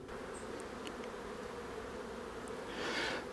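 Honeybees fly around beehive entrances at an apiary in November, a faint steady buzzing hum that swells louder near the end as a bee passes close.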